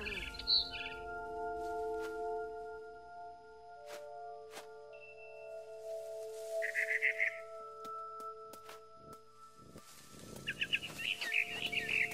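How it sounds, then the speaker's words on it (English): Chirps from a barn swallow in What Remains of Edith Finch come in several short bright trilled bursts spread across the stretch, moderately near, over a quiet ambient game soundscape with sustained tones and occasional soft knocks. "Then I heard chirping outside my window. It was a barn swallow going back to her nest."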